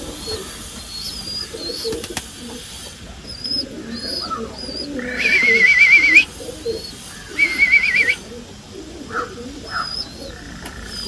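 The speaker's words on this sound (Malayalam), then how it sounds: "പ്രാവ് ഇങ്ങനെ ഉള്ളോട്ട് വരുന്നുണ്ട്" Pigeons coo softly nearby in a loft, with scattered chirps and two shrill whistling bursts cutting through the low murmur.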